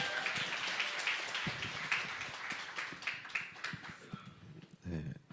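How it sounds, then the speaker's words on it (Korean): A church audience claps to welcome a pastor to the stage at a Busan presbytery evangelism camp forum, a dense, steady patter of many hands that thins out near the end, with some voices mixed in. "박수로 환영하겠습니다"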